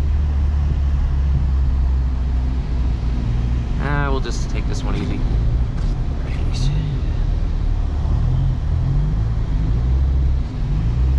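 A 1984 Toyota Tercel 4WD drifts in snow on neighborhood streets, its engine droning steadily with brief pitch rises as it slides, while someone talks over the car noise.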